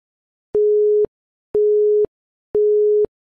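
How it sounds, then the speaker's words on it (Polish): Three steady electronic telephone tones, each about half a second long with equal pauses between, clear and close with no other sound. "Chwila stop, telefon dzwoni"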